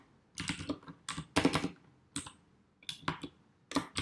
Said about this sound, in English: In this editor, you can type in your ZenUML DSL.